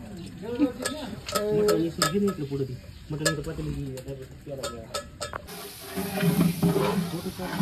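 Mutton curry with coconut cooking in a large pot, with a scraping ladle stirring in repeated strokes over a low sizzle while people talk in the background.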